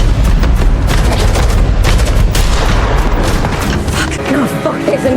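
Dense, continuous gunfire from a film shootout, with rapid shots and booms packed across the whole stretch and loud throughout. Shouted voices can be heard through part of it.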